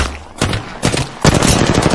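Bursts of automatic gunfire in the Apex Legends battle royale game, loud rapid volleys in three separated clusters over two seconds, with no talk.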